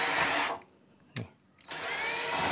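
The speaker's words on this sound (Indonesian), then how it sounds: "Ini saya mau bor di sini dulu nih." A power drill whirs loudly as it bores a hole in PVC pipe, stops briefly with a small click, then spins up again at full speed.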